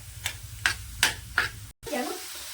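Onions sizzle in a hot iron pan while a utensil scrapes through them in four steady strokes, then the stirring stops briefly and the frying hiss continues.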